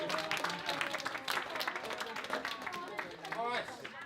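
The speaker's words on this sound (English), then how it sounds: "a round of applause" Audience clapping at a school tutor debating competition, a steady wash of applause at moderate distance with crowd murmur and voices mixed through it.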